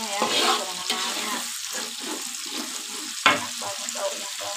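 Chili, onion and tomato fry in oil previously used for frying fish, with a steady close sizzle and a sharp clatter of stirring partway through.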